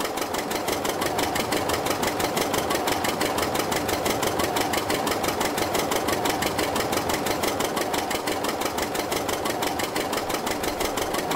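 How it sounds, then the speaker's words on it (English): An old tractor engine from a farming simulator video game runs steadily at low speed, a loud continuous rhythmic chug with no talk. "It's probably about as fast as that tractor would go"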